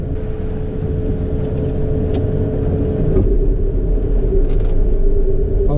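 Steady low mechanical rumble of a Potain tower crane hoist driving back during reeving, continuous and fairly loud, swelling slightly partway through, with no talk.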